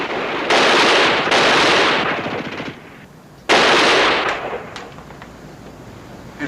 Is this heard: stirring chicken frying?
no